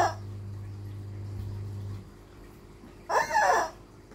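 A single short rooster crow rings out near the end, preceded by a low steady hum and a quiet background.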